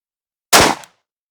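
A single close, loud gunshot fired during an overpenetration test of .223, 9mm and 00 buckshot, a sharp broadband blast that decays within about a third of a second, with silence before and after.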